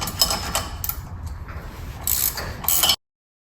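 A 16 millimeter ratchet turns a bolt on a Humvee steering wheel, giving quick runs of close, sharp clicking in a few bursts that stop abruptly, with no talk.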